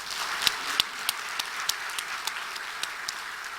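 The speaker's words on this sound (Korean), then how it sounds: "성가대 박수 한번 합시다" Sparse, rhythmic clapping from a church congregation at a Sunday worship service honours the choir, with distinct sharp claps standing out over a soft, continuous patter of applause.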